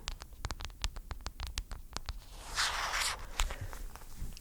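Plastic packaging around new kitchen towels is tapped with fingertips in quick, light, irregular clicks, then crinkles in a brief rustling burst, close and quiet with no speech.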